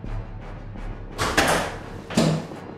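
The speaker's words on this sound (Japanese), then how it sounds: "ドアを叩く音に加え、女性の発狂が聞こえた。" Heavy pounding on a house door, two loud thuds about a second apart rising over a low rumbling background, close and forceful.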